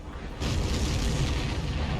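A supply ship blows up in the Ace Combat 7 flight game, a deep rumbling boom that swells suddenly and rolls on as a sustained roar, loud and without talk.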